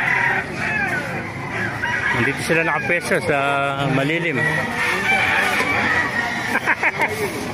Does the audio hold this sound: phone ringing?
no